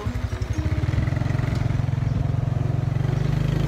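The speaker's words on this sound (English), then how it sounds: "Riding a motorcycle." Motorcycle engine running steadily while riding on a trip in Cambodia, a loud, close, continuous rumbling drone with a pulsing beat and no talk over it.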